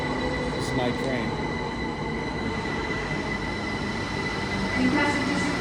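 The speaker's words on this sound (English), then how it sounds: "This is my train." A train pulls in at a London station platform, a steady broad rumble of rail cars with faint wheel noise, continuous and fairly loud, with a brief swell near the end and a hint of voices in the background.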